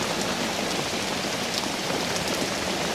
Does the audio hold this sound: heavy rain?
yes